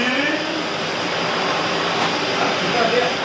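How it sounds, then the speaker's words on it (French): A loud, steady broadband roar like a vacuum cleaner running nearby, continuous throughout with no breaks. "Je passe l'aspirateur."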